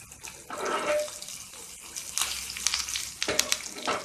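Mustard seeds, urad dal, cumin, onion and curry leaves hit hot oil in a pan, giving a close, uneven crackle and hiss with bursts of sputtering and clatter, no voices.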